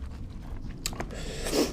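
A crispy boiled chicken wing in fish sauce is bitten and chewed close to the mic, giving a few crunchy bites over soft chewing with no talk.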